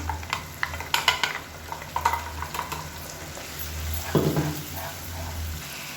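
Chopped tomato and roasted spice powder frying in a pan, a continuous close sizzle broken by repeated stirring scrapes and clinks, with no voices.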